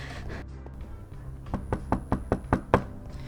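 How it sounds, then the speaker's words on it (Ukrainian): Seven sharp, evenly spaced knocks growing steadily louder, struck inside a dark Minecraft horror game over a low droning ambience, with no talking. "Що за стукіт?"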